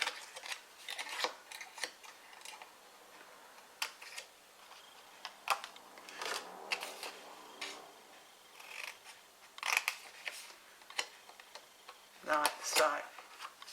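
Scissors snipping through greeting card stock to trim a gift box piece, a series of crisp, quiet cuts in irregular bursts, close and fairly faint with no talking over them.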